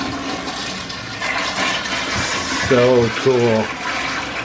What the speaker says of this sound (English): there is the toilet. It's got it's one of those top flushers